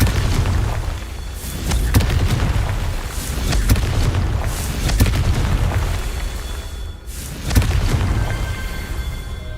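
Blasting-spell explosions from the Hogwarts Legacy video game boom repeatedly over a rumbling backdrop, with several sharp loud bursts spaced a few seconds apart.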